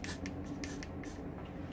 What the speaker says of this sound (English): I'm just not very good at putting hairspray on